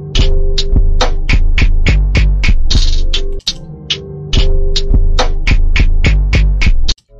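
808 bass hits and rolls in a trap beat, with booming low bass under rapid, regular hi-hat and snare hits, loud and continuous, briefly dropping out midway before resuming.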